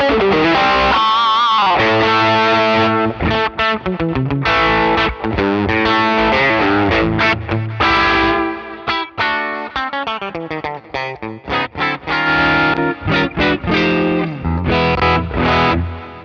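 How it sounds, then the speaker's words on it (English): Electric guitar with Seymour Duncan JB and 59 pickups, played through a Fractal Audio FM3 super overdrive into a Deluxe Reverb cab impulse, chugs loud, saturated riffs with sharp stops and restarts, no voices. "Oh, the old super overdrive."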